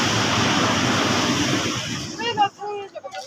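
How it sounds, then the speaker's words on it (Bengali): Sea waves breaking on the beach at Digha make a loud, steady broadband wash that fills the first two seconds, then fades as voices take over near the end. "ঢেউগুলো শুধু তাকিয়ে থাকা ঢেউয়ের দিকে, আর এর আওয়াজ শোনাটাই যেন শান্তির"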